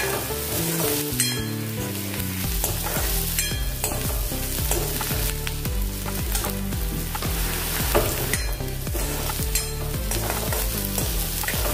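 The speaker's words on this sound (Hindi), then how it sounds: "अभी हल्का सा सुनहरा होने तक इसको भूनेंगे अदरक और लहसुन को।" Steady sizzling of ginger and garlic frying in a hot pan, with stirring and clinking of a spoon against metal throughout, no voices.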